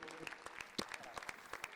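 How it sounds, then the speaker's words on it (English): An audience at a fighter's fan Q&A gives a round of applause, with sharp individual claps popping out of a crowded, uneven patter close by and a few voices mixed in. "let's have a round of applause"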